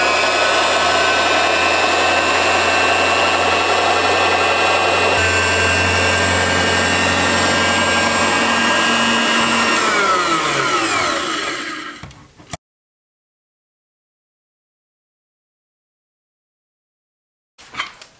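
A new electric sewing power tool slices through thick layers of fabric along a drawn line, a loud steady motor whine that runs alone for about twelve seconds, winds down and stops, then a brief burst returns near the end.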